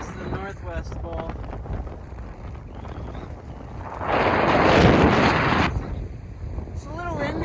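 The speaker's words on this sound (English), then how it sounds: "It's a little windy." Gusty mountain wind buffets the microphone while backcountry skiing in a bowl on Mt. Thielsen, a steady roar that swells loudly for about two seconds midway, with a person talking over it.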